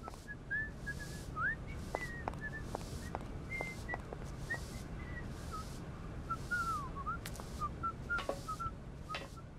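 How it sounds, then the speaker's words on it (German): A man whistles in the background of the video game Syberia, short melodic phrases repeating over a steady ambient hiss along with faint clicks, soft and distant, and no one speaks. "da pfeift ein Mann im Hintergrund"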